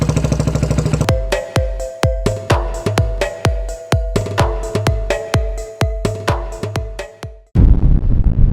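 A modified Kawasaki W175 chopper bobber motorcycle fires through its exhaust in loud, close, evenly spaced thumping pops, then shifts to a steady rushing roar at the end.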